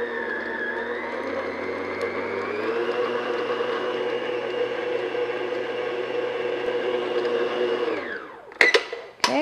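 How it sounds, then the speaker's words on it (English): An electric mixer beats egg mixture into pound cake batter at medium speed, a steady close whirring drone with a slight pitch shift midway, then winding down near the end followed by a few clattering knocks. "we're going to add half of the egg mixture we have left, and we're just going to beat this for about 30 seconds at medium speed"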